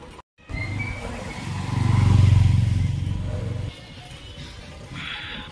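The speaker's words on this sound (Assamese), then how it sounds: "মই বাইকখন আনিলোঁ, বহুত ভাল কাম কৰিলোঁ।" A motorbike rides along a road toward a football match, its engine droning close and loud, swelling to a strong growl mid-ride before dropping off to softer background noise.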